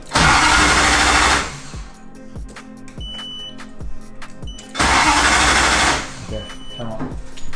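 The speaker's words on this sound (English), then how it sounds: "Okay, so try to start it again." A Toyota 1UZ V8 swapped into a Nissan S14 cranks with a steady whirring starter churn that stops, then a run of sharp clicks from a faulty relay, then a second loud cranking burst, close up, with no one speaking.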